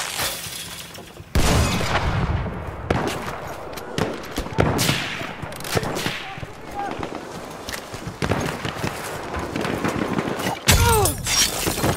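Machine gun fire and battle noise from the video game Battlefield 1 crackle in loud bursts amid explosions, footsteps and chaotic combat sounds, with soldiers shouting throughout.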